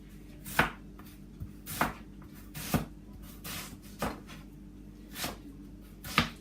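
Knife chopping onions into chunks on a board in a home kitchen, with six sharp, evenly spaced chops close by, each a crisp thud about a second apart, alone without talk.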